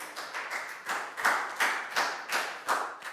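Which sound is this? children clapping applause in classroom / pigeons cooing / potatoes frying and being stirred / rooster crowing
children clapping applause in classroom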